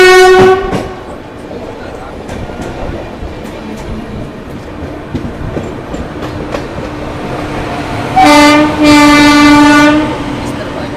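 A long-distance passenger train on the Kolkata to Jodhpur route rolls steadily along with continuous rumble and rail noise, then its horn blasts loudly twice near the end.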